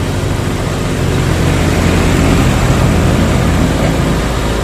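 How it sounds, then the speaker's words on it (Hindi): Honda Activa scooter engine running steadily as the throttle is opened slowly, a loud continuous low-pitched hum that swells slightly as the revs climb, with no voices over it. "देखो अब इसके आरपीएम बढ़ रहे हैं, देखो इसके और आरपीएम बढ़ गए।"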